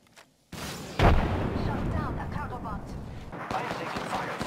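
A frag grenade detonates in Apex Legends gameplay with a sharp, loud boom. A rumbling tail follows, with further bursts near the end.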